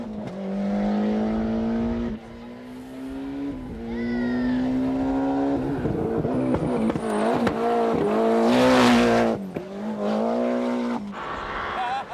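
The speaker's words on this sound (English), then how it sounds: "the car, which has dominated the Tarmac Championship, crackles its way to the Craigavon Spectator Stage finish" A rally car on a tarmac stage of the 1994 Ulster Rally approaches the Craigavon spectator stage finish, its engine note rising and falling through gear changes with crackling, close and loud.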